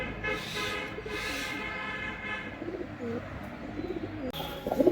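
Desi domestic pigeons coo in low, throaty, repeated calls close by, growing busier and louder toward the end.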